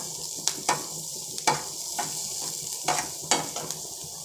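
Onions fry lightly in a masala pan, a soft continuous sizzle punctuated by regular spoon-against-pan scrapes and taps, close and without talk.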